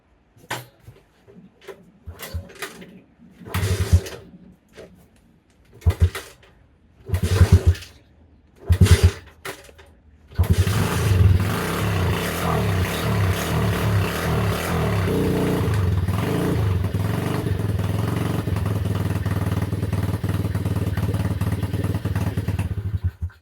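Honda Cub motorcycle with its choke on: a few separate clunks and thumps, then the small single-cylinder engine catches and settles into a steady, loud idle that runs to the end.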